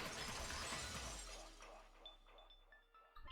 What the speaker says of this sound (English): It was the vase shattering.